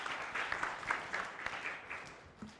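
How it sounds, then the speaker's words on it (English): Audience applause at a Septic Shark Tank pitch event, a moderate room of people clapping steadily with individual claps audible, slightly fading toward the end. "A round of applause for the tech troopers."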